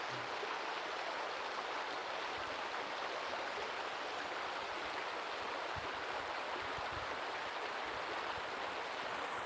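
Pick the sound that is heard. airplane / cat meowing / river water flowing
river water flowing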